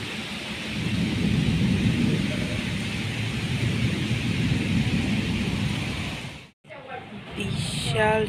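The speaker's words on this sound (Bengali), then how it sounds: "বিশাল জোরে জোরে মেঘ ডাকছে, বিশাল" Heavy rain pours down steadily and loudly in a flooded women's college hostel area in Burdwan, with deep, broad rumbling of thunder mixed in, before a brief sudden cutoff and return of the downpour.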